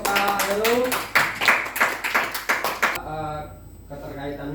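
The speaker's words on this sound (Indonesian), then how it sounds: "Kita beri aplaus untuk Kak Heru." Small group applauding for a facilitator at a training session, a few seconds of rhythmic clapping with a voice over it, then fading into quiet room tone.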